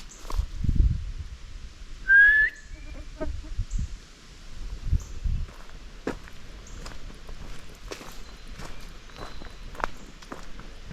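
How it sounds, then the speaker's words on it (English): In a Midwestern forest, a thin rising whistle-like bird call sounds once at a moderate distance, among scattered footsteps and leaf crunches. "It's gotta be a bird."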